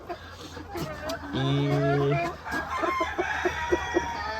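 Partridge-coloured ornamental chickens, with a rooster crowing one long sustained call amid scattered clucks and clicks from the flock, while someone talks over them.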